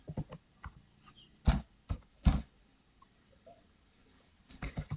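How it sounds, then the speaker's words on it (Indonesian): Typing on a computer keyboard, sparse irregular key clicks close up with a few louder presses and a quick cluster of keystrokes at the end. "Yaitu kita ketik index"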